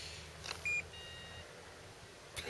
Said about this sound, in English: Bloody alarm!